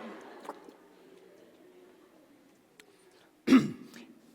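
A man clears his throat and coughs during a church sermon: a small catch early on, then one loud, abrupt cough near the end against quiet room tone.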